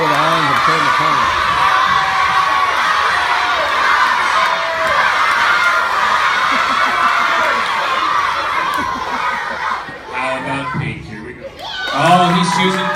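Crowd of elementary school children at a school assembly, shouting and cheering loudly together as they call out color choices. An adult's voice comes through briefly near the end.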